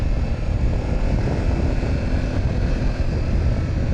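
Steady, loud engine roar and wind rush from a BMW F900GS motorcycle cruising on a road in Brazil, a dense continuous drone without breaks and without talk.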